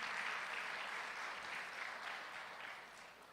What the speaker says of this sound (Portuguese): Uma salva de palmas para o pessoal que nos ajudou.